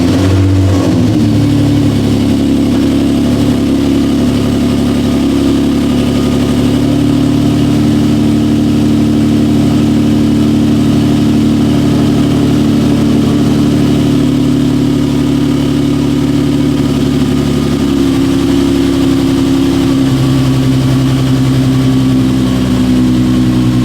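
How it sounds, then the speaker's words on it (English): Car engine idling after a cold start, a steady loud low rumble that runs continuously and close by, with slight shifts in pitch toward the end and no talking. "It's gonna be a cold startup too."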